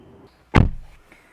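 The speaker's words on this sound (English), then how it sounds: "When you close that driver's door, indeed the passenger door, there's a reassuring thud of quality, of sturdiness." A single solid thud as the door of a Volvo V60 plug-in hybrid car swings shut, close and fairly loud, with a short muffled decay and nothing else around it.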